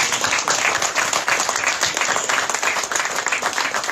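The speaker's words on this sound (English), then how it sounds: "Please join me with a round of applause to Aimiga McNabb." Loud, dense applause from a crowd at an evening cocktail reception, sustained and close throughout the clip.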